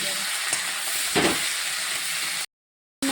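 Chopped onion, garlic and ginger paste fry for a young jackfruit and shrimp dish, giving a loud, steady close sizzle with a brief stir before cutting to a short silence.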